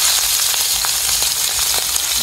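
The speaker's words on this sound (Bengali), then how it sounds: "তেলের মধ্যে মাছ দিয়ে দিলাম" Tengra fish sizzles in hot oil in a pan, a loud, dense, steady frying hiss that fills the whole moment without pause, with no voices.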